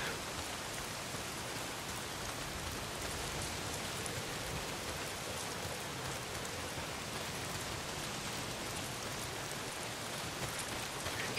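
Steady, even video game rainfall hisses continuously at a soft level, with no voices or other sounds.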